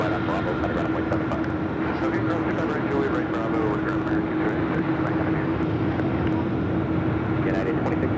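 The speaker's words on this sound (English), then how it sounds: "That's the flight heading to Chicago O'Hare" An airliner departing for Chicago O'Hare rumbles with a broad, steady engine drone, with a sustained hum and faint intermittent ticks over it, moderately loud and without close talk.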